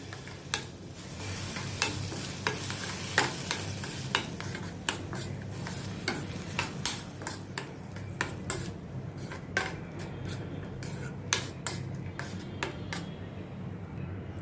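A spatula stirs bhindi masala made with okra, tomato, onion and salt in a pan, with repeated close clacks and scrapes over a steady low sizzle and no talking.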